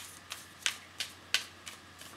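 Tarot cards being shuffled by hand, faint close snaps of the deck repeating at an even pace about every third of a second, with no talk.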